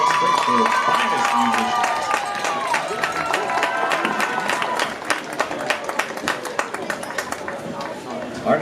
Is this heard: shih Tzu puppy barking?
no